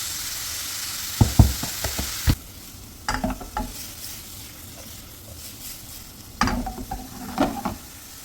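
Chopped onions with a little salt fry in hot oil for an egg puff filling, giving a steady sizzle under sharp clacks of a spoon stirring against the pan in several quick bursts.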